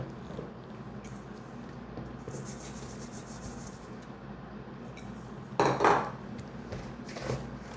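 A utensil clinks and scrapes in a bowl while sugar is stirred into peanut butter cake batter, light rubbing strokes building to a louder burst of scraping near the end, close up, with no voices.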